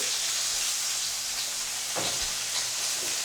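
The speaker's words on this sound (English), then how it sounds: "Frying steaks, I love it." Steaks fry in a pan with a constant close sizzle. A brief clunk sounds partway through.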